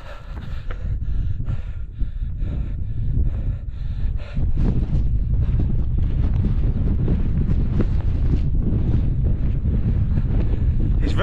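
Strong, steady wind on the hills near Whernside in the Yorkshire Dales buffeting the microphone, a dense roaring rumble that surges and fills the whole stretch without letup.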